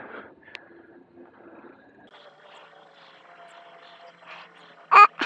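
An Engwe EP2-Pro e-bike motor strains uphill in throttle-only mode, giving a faint, steady electric whine that holds level throughout, with two short, louder bursts near the end.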